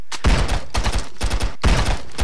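A double barrel shotgun fires in the game Stick Arena Dimensions in a rapid, loud, continuous burst of blasts, with three dense volleys split by brief gaps and no talking.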